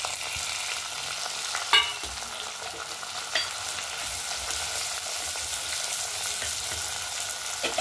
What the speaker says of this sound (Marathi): आणि आपण ह्याच्यामध्ये कांदा, टमाटर हे दोन्ही आपण मिक्स करणार आहोत.